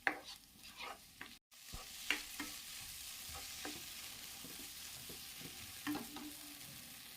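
Ginger and garlic sautéing with onion in a pan for chicken stew, with a faint, quiet sizzle and intermittent clinks and scrapes of a spoon stirring, no voices.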